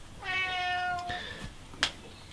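A house cat meows once, a clear drawn-out call close by, followed by a couple of soft clicks and a short sharp tap indoors.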